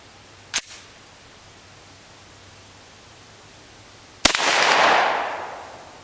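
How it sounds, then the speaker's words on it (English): A Remington Model 8 rifle, over a century old, fires 200 grain soft point rounds at a quarter inch steel plate; one sharp crack comes first, then a second shot with a ringing, decaying impact that lingers outdoors. "we actually are going to shoot a few rounds of this 100 plus year old ammo"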